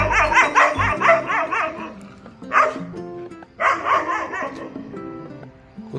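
A dog in a village barks in quick bursts, a rapid run of loud yaps, a lone bark, then another close cluster, with faint background hum between.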